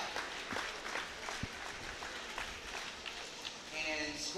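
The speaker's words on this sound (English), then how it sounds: "You guys are clapping for that." Dense applause from an audience at a hair battle championship, a steady wash of clapping throughout with a few louder accents and some crowd noise.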